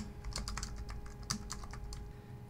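Steady, close keystrokes on a computer keyboard during cloud ecommerce coding, a quick irregular patter of clicks with no voice over it.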